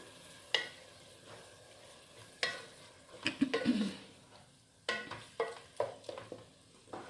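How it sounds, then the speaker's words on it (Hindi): Minced keema cooks with onions in a pan, a low sizzle broken by scattered scraping and clinking strokes of a spoon, close by and without speech. "कीमे को हम यहाँ प्याज के साथ अच्छा सा फ्राई करेंगे।"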